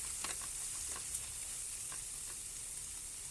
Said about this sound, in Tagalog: Halo-haluin lang natin mga kaluto